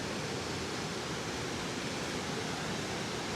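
River rapids beside a deep pool rush in a dense, unbroken roar of turbulent water, close and steady throughout with no other sounds.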